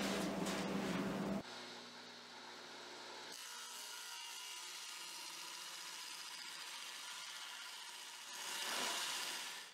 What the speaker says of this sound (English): This is a super cheap garage sale table saw. It barely works, but it's going to handle what we need to.